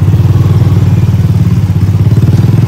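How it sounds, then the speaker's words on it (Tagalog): A motorized tricycle engine chugs in a steady, rapid pulsing rhythm close by, loud and throbbing with a rattling clatter and no voices. "sakay tayo kay tricycle"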